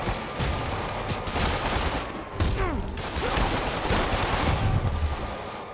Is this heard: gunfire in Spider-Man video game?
yes